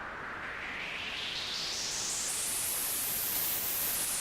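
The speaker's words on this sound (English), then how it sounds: "you can hear the white noise is already reducing" Synthesized white noise generated in FL Studio plays as a continuous, loud hiss whose tone rises and brightens steadily as it goes on.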